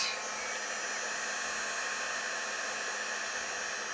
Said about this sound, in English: give it a bit of a blast of heat